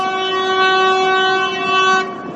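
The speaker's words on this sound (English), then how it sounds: "there's the train coming. Let's zoom in. Now you can probably hear it." A passenger train approaching a station in Tibas, Costa Rica sounds a loud, sustained horn blast lasting about two seconds, steady and close, with no voices.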